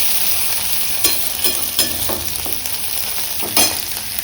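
Jute leaves frying with onion in a pan, a steady close sizzle broken by several sharp scraping stirs of the spatula, with no voices.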